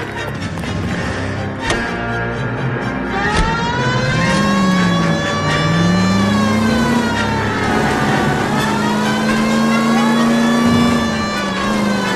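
A car drives in L.A. Noire, its engine droning and rising in pitch as it accelerates, while a siren wails steadily over it for the whole stretch.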